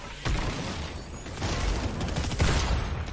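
Gunfire from a video game arena battle: dense, sustained bursts of shots that swell in loudness about halfway through, filling the whole clip with no voices.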